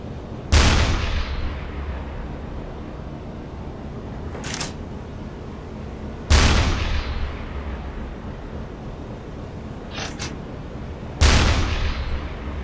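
U-boat deck gun fires in the video game U-Boat, three loud booming shots spaced several seconds apart, each followed by a long rumbling decay, with faint mechanical clicks in between.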